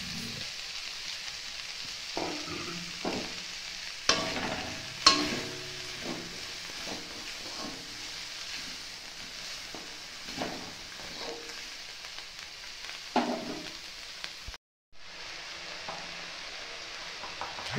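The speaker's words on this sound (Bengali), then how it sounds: "পেঁয়াজগুলোকে আমরা হালকা লাল করে ভেজে নিচ্ছি।" Onions fry in a pan with a soft, continuous sizzle, broken by periodic spatula scrapes and taps at close range, and a brief cut near the end.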